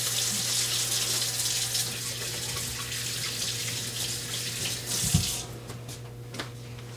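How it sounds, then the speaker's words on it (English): Kitchen sink tap running steadily while hands are washed after handling raw ground turkey, with close, constant water flow, a brief splash of movement near the end, and a low hum underneath. "Now I'm going to go over here and wash my hands since I did have my hands on that meat."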